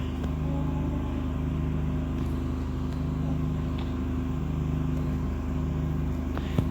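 A car driving in the Roblox Brookhaven game, a steady, even engine drone that holds at a constant level throughout without clear revving, with no talking over it.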